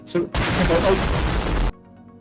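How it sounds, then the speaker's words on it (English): A sudden loud explosion erupts as a dense, roaring burst. It holds for about a second and a half, then cuts off abruptly into quiet. "Oh yeah, that was an explosion."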